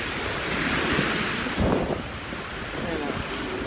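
Sea waves roll in at a beach with a loud, continuous wash and surge while heavy wind buffets the microphone throughout. A brief voice is heard near the middle.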